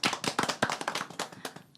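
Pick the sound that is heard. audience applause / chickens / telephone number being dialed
audience applause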